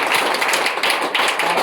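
Church congregation applauding during a worship service, a dense steady patter of many hands clapping close by with no talk, filling the whole moment.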